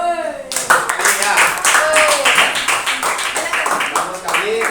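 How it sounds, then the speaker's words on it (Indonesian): Schoolchildren in a classroom clap together in a quick rhythmic round, close and lively, mixed with voices, after a short spoken prompt at the start. "Berikan tepuk tangan dulu anak-anak"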